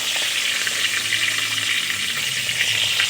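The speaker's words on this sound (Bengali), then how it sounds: "নাড়াচাড়া করে ডিমগুলো লাল করে ভেজে নেব।" Eggs fry in a pan with salt, a dense, steady sizzle close up that holds evenly throughout with light stirring and no voices.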